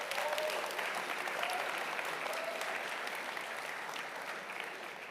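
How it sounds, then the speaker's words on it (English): Applause from the audience at a ColorOS 7 smartphone software launch event, a sustained wash of clapping from a large crowd, moderately distant and tapering off gently toward the end. "a big round of applause for the ColorOS team"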